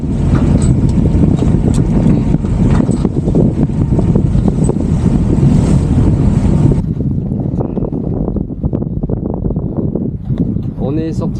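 Heavy sea swell rolls around a small motorboat leaving a harbour pass, with rushing water and strong wind buffeting the microphone for most of the stretch, then easing to a lower churning wash with voices speaking over it.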